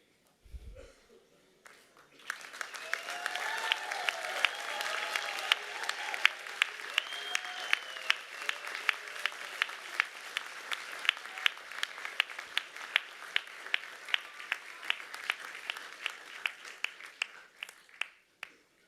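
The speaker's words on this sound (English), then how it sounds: "give them an equally loud, rousing round of applause" A large crowd of engineering and IT graduates at a university graduation ceremony breaks into loud, sustained applause for their families and friends, rising after a quiet start and fading out near the end.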